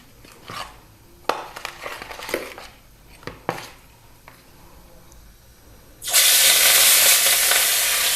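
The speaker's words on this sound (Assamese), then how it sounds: "মাছখিনি মই বহাই দিলোঁ ভাজিবৰ বাবে।" Fish drops into hot oil in a wok (kerahi). After light clinks and clatter from the pan, a loud, steady, crackling sizzle suddenly takes over and continues to the end.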